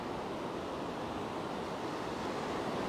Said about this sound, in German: Und hier mal der Meeresrausch.